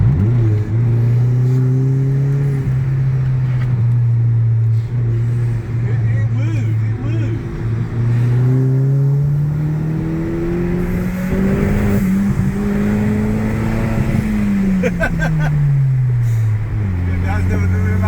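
Vauxhall Corsa VXR Nurburgring Edition fitted with a cat-back exhaust, heard from inside while driving: a steady loud engine drone that rises and falls with the revs through gear changes, with people talking over it.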